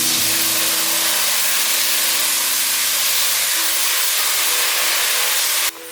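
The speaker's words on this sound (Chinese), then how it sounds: "番茄放进来略炒一下" Tomatoes stir-frying with vegan chicken and carrots in a pan, a loud continuous sizzling hiss with low tonal hum underneath, steady throughout.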